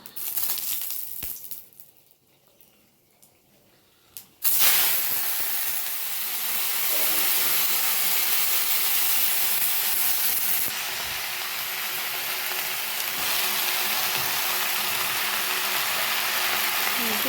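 Lafa greens tipped into a hot pan while cooking curry set off a sudden loud sizzle after a quiet start. A steady, close frying hiss then carries on to the end.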